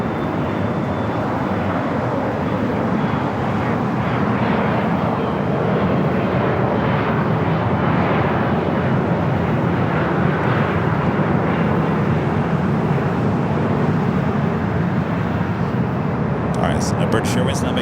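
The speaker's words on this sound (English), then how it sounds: "British Airways now making that final turn, heading into the gates." British Airways airliner taxiing toward the gates at LAX at night, a continuous broad engine rumble and roar, steady and moderately close, with someone talking over it at times.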